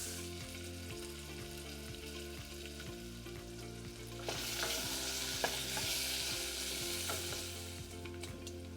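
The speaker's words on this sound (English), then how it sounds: "over medium-low heat, you're going to want to cook the chopped bacon until done" Chopped bacon frying in a saucepan over medium-low heat, a steady close sizzle with scattered scraping stirs, the crackle swelling louder and brighter about halfway through and continuing with sharp spatter pops.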